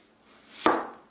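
A kitchen knife slices an onion in half on a cutting board, making a single close, crisp cut that swells briefly and fades, with no talk.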